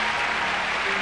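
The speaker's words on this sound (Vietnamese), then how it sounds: "Xin quý vị một tràng pháo tay cho Bá Phúc với một bộ đồ rất đẹp cho Ngũ Long Công Chúa." Applause from the audience at a 1994 Vietnamese variety stage show in San Diego, a brief dense wash of clapping with a faint steady tone beneath it.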